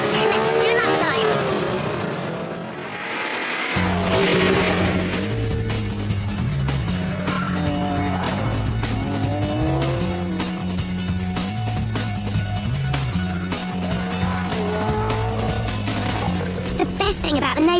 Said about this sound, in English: the twin turbos spool up without much lag to rocket you out the other side